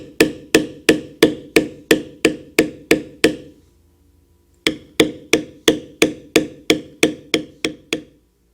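A mallet strikes a metal beveler again and again on leather being tooled with a Celtic knot design, a crisp, steady tapping at about two or three blows a second that pauses for a moment, then resumes.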